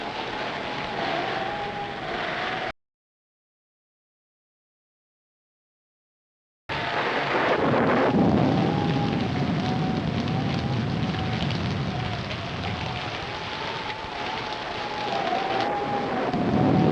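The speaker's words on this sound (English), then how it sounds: "If the storm gets any worse." A thunderstorm from a 1943 film rolls on as a loud, steady roar of rumbling and rain-like noise. It drops out completely for several seconds, then returns just as strong.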